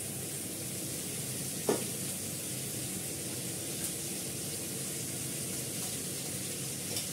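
A little oil heats in a pan before pointed gourd goes in, giving a faint, even hiss with a single soft clink early on.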